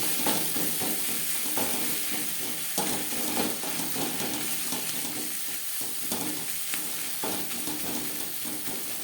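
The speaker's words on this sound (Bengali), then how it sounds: "পেঁয়াজ ভাজা হয়ে গেছে" Onions fry in a pan with a steady, dense sizzle and hiss, and occasional stirring knocks sound through it, close and continuous with no talk.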